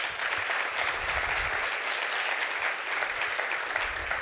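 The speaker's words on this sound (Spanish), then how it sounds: "Un fuerte aplauso" A strong round of audience applause at the launch of a short-story contest about cancer, even, continuous clapping from a gathered crowd, fairly loud and unbroken throughout.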